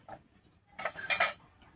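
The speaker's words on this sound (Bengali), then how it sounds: "আমি এরপরে দিচ্ছি কালো সর্ষে" Black mustard seeds tipped into a hot wok over dried red chillies, heard as a brief rattling clatter of metal and seeds, close and clear, after a faint tap, with no speech.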